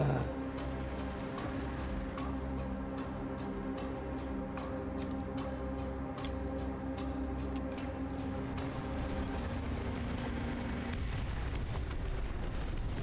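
Artillery fire in the Dust Front RTS video game: a constant rumble of distant booms with many sharp repeated blasts and pops layered over a low droning background, no voices.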